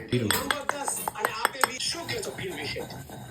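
Sharp metallic knocks and clatters in a quick irregular series as garlic is pounded in a mortar for chutney, close and fairly loud with kitchen clinks between strikes.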